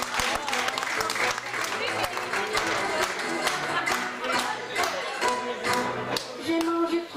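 A live audience bursts into dense, loud applause for a performer at a comedy show in Baudres, France, with steady rapid clapping and voices mixed in throughout.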